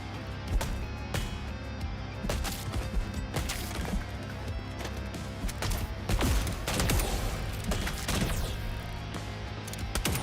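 Video game gunfire crackling in rapid bursts over a busy, noisy background, with sharp shots scattered through the whole stretch and clustered more densely in the middle.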